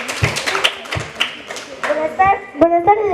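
A few people clap at a school tribute ceremony, a scattered, uneven patter of separate hand claps rather than full applause, with children's voices and other speech running over it and rising near the end.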